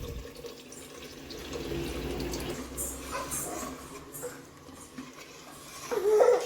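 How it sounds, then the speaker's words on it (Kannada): Soaking water from the rice poured into a cooking pot while making mushroom pulao, a steady splashing pour heard close up with kitchen background noise, growing louder toward the end. "ಇವಾಗ ನೀರು ಹಾಕೊಳ್ಳೋಣ."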